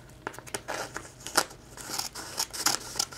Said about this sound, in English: You're going to cut those papers in half.